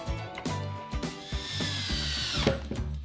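A power drill drives 1.25 inch pocket hole screws into wood boards for a DIY dog bed, with several short whirring bursts and a rising motor whine, close and loud.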